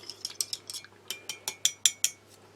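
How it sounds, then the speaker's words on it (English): A fork handle stirs coffee in a cup from a Turkish 24-hour military ration, giving a quick run of about a dozen bright metallic clinks and scrapes against the cup, close and alone, with no talking. "You should just use the handle of the fork to give that a stir."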